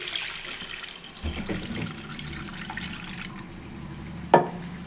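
Water poured from a glass into a pan of simmering tamarind fish curry, a short liquid splash and trickle that rises after a quiet start, with a brief sharper clink near the end.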